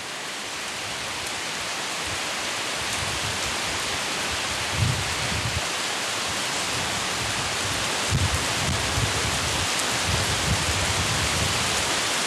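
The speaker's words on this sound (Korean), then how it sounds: "장마철 변덕스런 날씨는 한바탕 소나기를 뿌린다" A summer monsoon-season rain shower pours down in a continuous broadband hiss, with a few heavier gusts or spatters swelling briefly near the middle and end.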